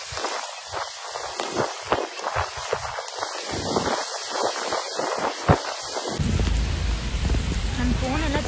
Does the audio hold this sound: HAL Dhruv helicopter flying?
no